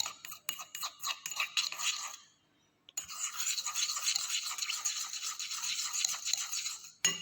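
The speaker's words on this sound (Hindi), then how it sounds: "एंड स्पैचुला से ही हम स्टर करेंगे" A spatula scrapes and stirs silica gel paste for thin layer chromatography in a small container, making a steady rapid rubbing and scraping that stops briefly, then resumes and continues without talk.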